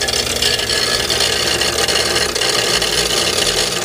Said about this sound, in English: I'm going to grind down a notch out of the shaft.